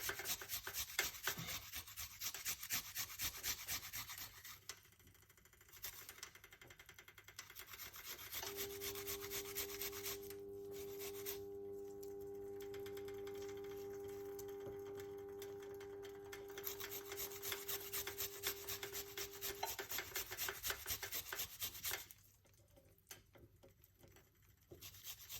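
Fresh ginger is rubbed against a grater in a steady, close, dry rasping scrape that carries on for the length of the clip with brief pauses and no talk.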